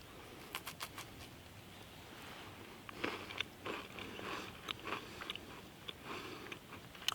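Cheese and crackers from a 2019 Menu 17 MRE are eaten up close, with soft crisp bites and chewing crunches in irregular clusters over a quiet room.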